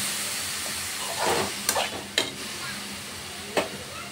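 Carrot halwa with sugar being stirred in a pan: a soft, steady cooking hiss with a few sharp scraping knocks of the spoon spaced across the clip, close by and without speech.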